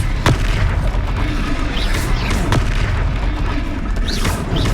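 Expelliarmus spell blasts during a Hogwarts video game duel, a dense loud stretch of booming magical impacts and swooshing streaks layered over continuous rumbling battle noise.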